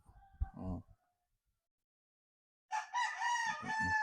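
A Boston Roundhead gamefowl rooster gives one clear, close crow, drawn out and rising, after a short earlier sound and a stretch of silence.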